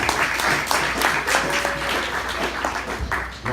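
A comedy club audience applauds in a moderate, uneven patter of clapping, with a few scattered voices underneath.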